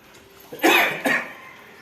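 An adult coughs twice indoors, two short harsh bursts about half a second apart, close and fairly loud, followed by quiet room tone.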